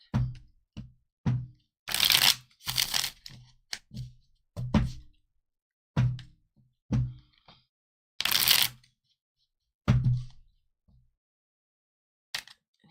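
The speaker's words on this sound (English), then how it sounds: "Here's me shuffling badly." Tarot cards shuffled somewhat clumsily by hand, giving irregular bursts of crisp riffling and slaps with brief pauses between, close and fairly loud with no talking.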